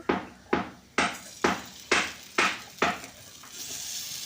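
Spiced, finely chopped pieces hit a hot pan in a series of about seven sharp sizzling bursts, roughly every half second, each fading quickly, with a steady frying hiss building at the end; no one speaks.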